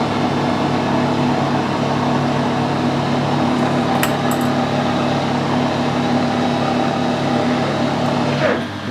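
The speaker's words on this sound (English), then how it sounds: "Luckily I can reverse the lathe and that just comes back basically by itself." A metal lathe runs in reverse with a 12mm die nut backing off a freshly cut thread, giving a steady mechanical hum with a faint tonal whine, a brief higher tick near the middle and a small change at the end.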